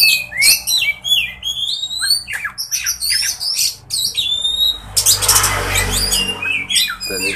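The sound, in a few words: kacer (magpie-robin) bird chirping while being sunned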